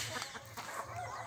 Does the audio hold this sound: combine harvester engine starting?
no